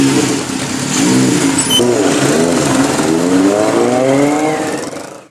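Honda and Alpine cars rev their engines at an enthusiasts' gathering, loud rising and falling engine notes in repeated sweeps close by, fading out at the end.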